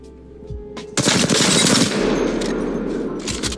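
Automatic R-301 rifle fire in a video game: after a second of low ambient hum, a loud, close burst of rapid shots runs for about a second, followed by a lingering noisy tail with a few fainter shots.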